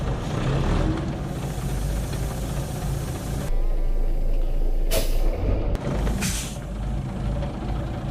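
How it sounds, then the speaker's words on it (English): Volvo F87 truck air brakes hissing loudly in short sharp bursts while the engine idles with a low rumble, punctuated by a couple of quieter gaps. "I test the brakes carefully."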